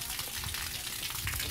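Water gushing into a garden pond being refilled, a continuous, fairly quiet bubbling splash with no pauses and no one talking.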